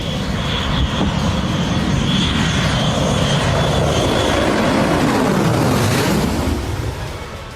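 A B-2 bomber aircraft flying over a battleground gives a loud, sustained engine roar that swells and rumbles steadily, then fades slightly toward the end.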